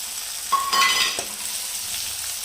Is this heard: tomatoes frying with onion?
yes